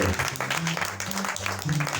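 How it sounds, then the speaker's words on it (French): A church congregation at an evening service applauds, with a steady burst of clapping under a voice speaking over it, fairly close and moderately loud. "Applaudissez encore pour le grand-père cette soirée"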